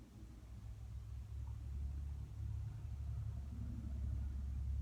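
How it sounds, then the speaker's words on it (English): Road traffic rumbles outside a vintage camper, a low, steady drone of passing cars, muffled and distant. "And I hear all the traffic out there on the road"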